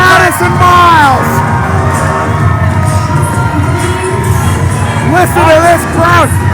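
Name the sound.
wrestling crowd cheering and shouting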